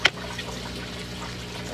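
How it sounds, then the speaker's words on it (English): Water poured from a container through a small net to catch a betta fish, a brief splash at the start followed by a steady, close, gentle trickle with no talking. "And then you just pour through the net."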